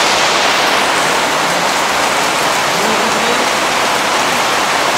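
Heavy rain pours down in a dense, steady roar that stays loud and unbroken throughout, with no voices.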